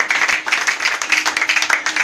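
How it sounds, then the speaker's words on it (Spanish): A church congregation at a deliverance service claps in praise, steady rhythmic hand clapping with quick, even beats, close and fairly loud. "Denle un aplauso al Señor Jesucristo."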